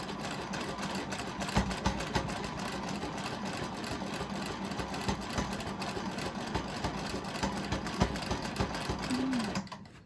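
A sewing machine runs steadily while quilting a scrap quilt's outside border, stitching in the ditch, a continuous fast mechanical whir with dense rapid stitch ticks that stops abruptly at the end.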